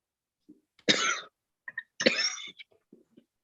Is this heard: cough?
yes